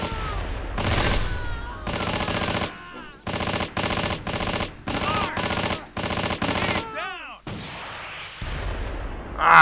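Gunfire and artillery sound off in the World War II video game Close Combat, with repeated loud, close bursts of rapid machine-gun fire, heavy shell blasts and brief gaps between volleys.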